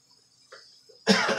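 A single harsh cough bursts out loudly near the microphone after a brief quiet stretch with faint throat sounds.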